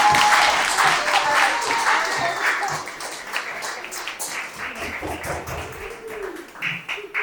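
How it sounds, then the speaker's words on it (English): Wedding reception guests applauding after a toast to the bride and groom, a burst of clapping that starts loud and gradually thins out, with scattered cheers and voices mixed in. "Give one a clap, that's great."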